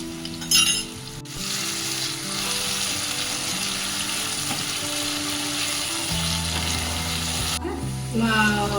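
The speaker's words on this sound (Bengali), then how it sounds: "এই আলুগুলো আমি ভাজতে দিয়ে দিচ্ছি।" Potatoes with salt and turmeric fry loudly in hot oil, a steady crackling sizzle with occasional clinks of a utensil against the pan.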